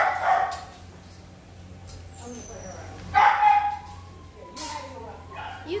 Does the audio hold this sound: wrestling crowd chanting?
no